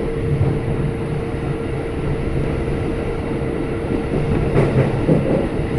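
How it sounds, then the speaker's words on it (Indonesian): Steady, heavy rumble of a KRL commuter train on the Bogor line rolling past at night near Pondok Cina, Indonesia, with a continuous clattering roar, loud and close, no voices. "jam segini kok masih ada kereta lewat gitu kan"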